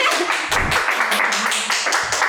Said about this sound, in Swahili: Please, ladies and gentlemen, kuru tupigia guest wetu makofi.